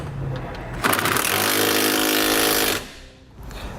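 Power tool with a 21mm socket tightening truck body bolts on a 2016 Chevrolet Colorado while Westin nerf bars are installed, a loud steady whir of about two seconds rising abruptly and cutting off, with a short quieter burst after.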